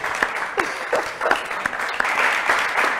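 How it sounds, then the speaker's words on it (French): Applause from a small audience in a TV studio during an interview show, a steady patter of many hands clapping at moderate loudness, with a few sharper individual claps standing out. "Elle applaudit quand même."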